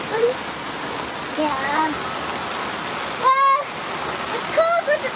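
Rain falls steadily at a cold, wet Thanksgiving campsite, a constant hiss of drops on surfaces, with people talking briefly over it.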